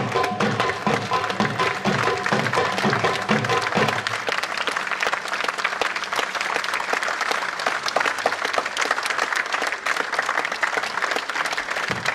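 Enthusiastic audience applause at the end of a staged nautanki play, loud and sustained dense clapping from a crowd, steady throughout with no voices standing out.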